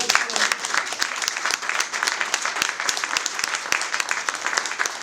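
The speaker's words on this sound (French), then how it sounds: "il ne faut pas applaudir trop vite" Indoor audience applause at an association's inauguration evening, a fairly close crowd of clapping hands with individual claps audible, steady throughout and ending as it fades slightly.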